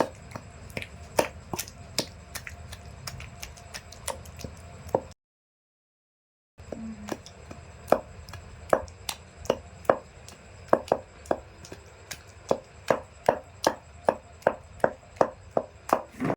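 Repeated sharp knocks of a stone grinding tomato chutney with garlic in a stone mortar, a steady rhythm of strikes with a brief silent break partway through.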